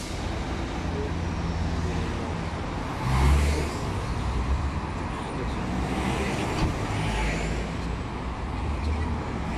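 Lorries rumble past on a busy road carrying heavy truck traffic, a continuous roar of engines and tyres with one louder pass swelling briefly, heard from nearby.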